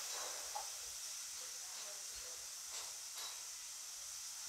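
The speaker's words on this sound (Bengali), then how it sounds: "জলটা ফুটে গেছে, দেখো জলটা কীরকম ফুটছে।" Water boils steadily in a pot on a clay stove with salt added, a constant broad hiss and rolling bubble with faint pops, no talk.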